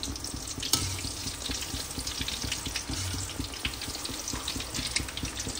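Food frying in oil that was not yet fully hot, foaming up strongly in a home village kitchen: a steady, close, dense sizzle and crackle with bubbling, continuous throughout and no talking.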